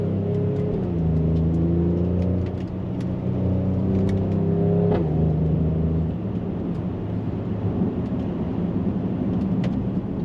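A Mercedes GLE 43 AMG is driven along a twisty road in Sport Plus mode, its engine rising and falling through revs with shifting tones over constant road and tyre rumble from inside the cabin.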